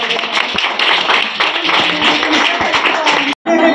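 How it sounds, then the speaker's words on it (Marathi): An audience claps together in a dense, continuous patter of close hand claps for Constitution Day at a school event, loud and sustained before cutting off abruptly near the end. "आजच्या दिवशी 26 आहे, त्याच्यासाठी दोन टाळ्या"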